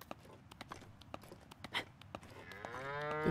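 In the video game The Legend of Zelda: Breath of the Wild, a series of sharp footstep clicks and taps leads into a cow's moo that starts in the final second and grows louder.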